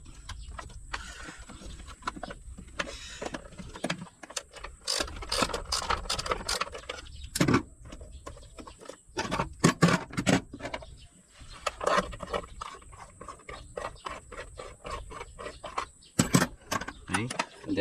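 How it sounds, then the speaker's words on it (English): A 10 mm deep socket wrench loosens a bracket on a Toyota Hiace, irregular close ratcheting clicks and metallic taps scattered throughout over a low background hum. "then using 10 mm deep socket wrench,"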